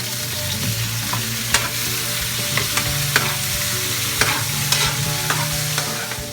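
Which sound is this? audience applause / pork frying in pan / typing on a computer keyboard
pork frying in pan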